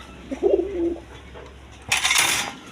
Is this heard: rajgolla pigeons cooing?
yes